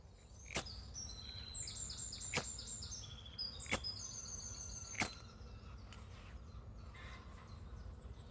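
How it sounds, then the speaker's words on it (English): Wild birds sing and chirp in Brockwell Woods on a cold morning, with bright twittering phrases in the middle and several sharp, loud clicks spaced across a soft, steady outdoor hush. "But the birds are in tune, aren't they?"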